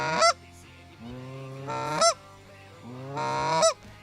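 Canada geese during an early-September goose hunt in Michigan: three loud, close honking calls, each swelling from a low nasal tone into a sharp, rising honk, spaced about 1.7 seconds apart, with no talk.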